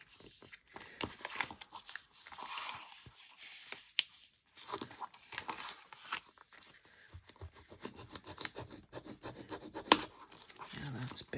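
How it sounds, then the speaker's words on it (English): Paper fold on a handmade scrapbooking envelope being sharpened, close and quiet: repeated dry rubbing and scraping strokes in uneven bursts, with a louder sharp crease or snap near the end. "And then I should try to sharpen this fold a bit."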